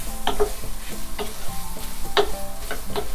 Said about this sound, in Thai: เราก็ผัดให้หอมของเราสุก